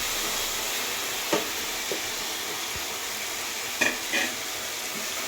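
Masala and softened tomatoes sauté in a pan for a mushroom gravy, a steady close sizzle and fry hiss running throughout with a few brief scrapes and clinks of stirring.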